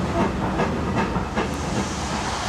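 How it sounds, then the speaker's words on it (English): Steam locomotive, Stanier Mogul 2968, at Bewdley station during a gala locomotive change, giving a steady loud hiss of steam with faint rhythmic rail clatter, no voices. "Stanier Mogul 2968 has just relieved the A4 and K4 combination"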